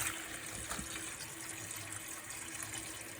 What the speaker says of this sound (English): So, I always wanna wash the pine needles off.